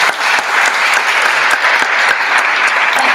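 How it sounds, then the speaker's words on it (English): Audience applauding Christina at the close of her talk in a conference room, a steady, dense wash of many hands clapping at close range that holds evenly throughout with no voices over it. "please let's give Christina a round of applause"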